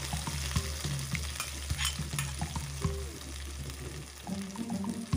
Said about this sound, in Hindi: अब हम डालेंगे कटी हुई प्याज।